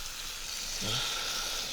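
Vinegar splashes into a hot pan holding anchovies and sugar, raising a steady, loud hiss of sizzling throughout, with a brief bubbling surge near the middle.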